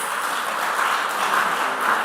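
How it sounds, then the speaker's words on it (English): Applause breaks out for the moderator of a junior high school science and maths quiz semi-final, a steady, even clatter of clapping from an audience that fills the whole moment. "I deserve a round of applause."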